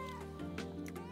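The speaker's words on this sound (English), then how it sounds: "We got the cat here." A cat meows in a short, clear call up close during a home meal in a Chinese village kitchen, with harmonic tones under steady background sound.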